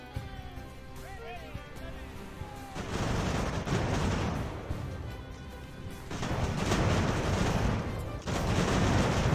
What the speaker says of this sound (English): we're taking some very close shots from the artillery